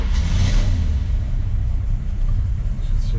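A 1951 GMC Series 100 truck engine starts and runs as a steady low rumble, fairly close and moderately loud.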